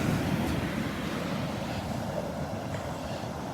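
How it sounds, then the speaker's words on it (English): Ocean waves break steadily on Vanderbilt Beach, a broad, continuous wash of surf with wind rumbling across the microphone, close and fairly loud, with no voices. "The sounds of the waves."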